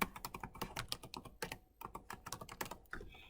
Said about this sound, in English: Typing in a password.